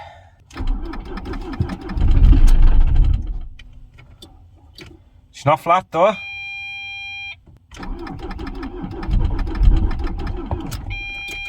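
A Ford Transit Mk7 van engine, previously knocking, idles with a low, rumbling drone, broken by a pause with a brief whirring and a steady tone; someone talks over it.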